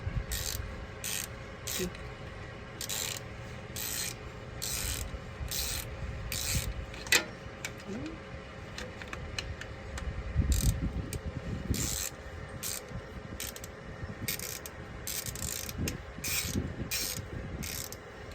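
A fastener on the rear brakes of a 2022 Toyota Tundra SR5 4WD is turned clockwise to tighten, giving repeated faint ratcheting clicks in short bursts against quiet rubbing sounds.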